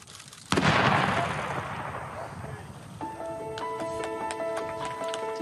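A ceremonial gun salute fires with one loud, sudden boom that rolls away in a long echoing tail, followed by a brass band playing in the open air.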